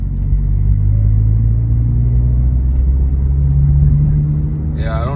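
Toyota GR86/Subaru BRZ with a six-speed manual, engine droning steadily after a downshift to third gear, a loud continuous rumble from inside the cabin that rises slightly near the end.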